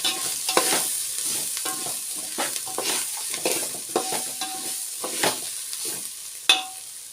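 Spices and onions frying for pulao in a pan, a steady sizzle with repeated scraping stirs of a spoon at a close, even pace.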